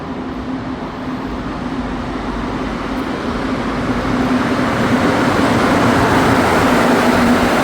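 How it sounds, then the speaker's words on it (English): An Azur metro train approaches a station in Montreal, its rumble and rolling noise building steadily louder over a constant low hum. "Wait for the train to arrive."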